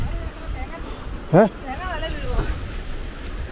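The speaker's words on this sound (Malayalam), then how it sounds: "ഇതിപ്പോ കാറ്റ്" Gusty wind rushes across a wet outdoor area during a stormy spell of wind and rain, a low, steady roar that runs beneath a person talking throughout.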